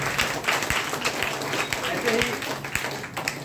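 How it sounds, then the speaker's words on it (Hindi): Audience applause at a Hindi-language DXN health products talk, steady clapping from a crowd throughout with a voice speaking briefly over it. "एक बार फिर से जोरदार ताली लगा सकते हैं।"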